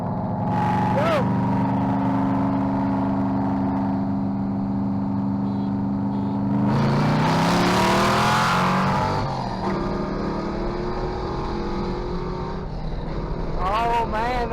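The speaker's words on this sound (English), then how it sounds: "We're blowing smoke out the tailpipe now on a high RPM pull." A Ford Mustang with a swapped-in 351 engine, blowing smoke from the tailpipe, makes a loud, close, sustained high-RPM pull that rises through the gears, with excited voices shouting over it.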